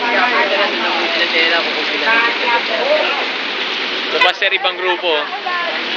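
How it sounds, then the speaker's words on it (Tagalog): Heavy rain pours steadily in a broadband wash, heard up close beside a jeep on the way to Quiapo, with someone talking over it and a brief bump near the end. "Lakas ng ulan, sir, no?"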